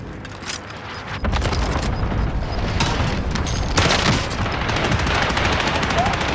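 Rapid automatic gunfire in Call of Duty: Modern Warfare, loud sustained bursts with booming impacts, close and dense throughout, with faint voices underneath.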